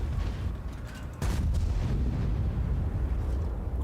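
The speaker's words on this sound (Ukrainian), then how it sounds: "Жень, перед тобою танк, блядь, сука, стрельни по ньому" A heavy tank cannon blast in a video game booms out once, followed by rumbling low-end noise and a continuous dull roar of battle.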